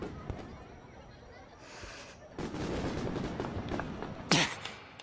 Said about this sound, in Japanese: 違う種類の花火なんですよ。